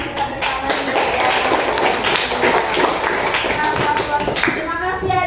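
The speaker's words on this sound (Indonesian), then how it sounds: "Kita kasih tepuk tangan dulu ya." A classroom of students claps for a classmate during a school lesson, close and fairly loud continuous clapping lasting about five seconds with a few young voices mixed in.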